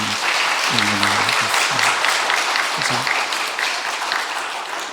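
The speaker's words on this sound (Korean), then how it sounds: "다시 한번 박수로 힘차게 좀" An audience at a church installation service breaks into sustained, dense applause that carries on throughout and fades slightly at the end, with a few voices briefly heard over it.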